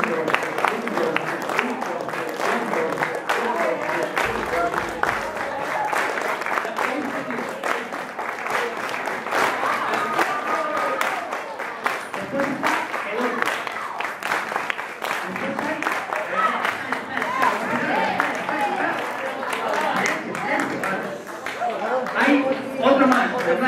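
Flamenco palmas, sustained rhythmic handclapping running steadily throughout, dense and fairly loud like a group clapping in time, with voices mixed in underneath.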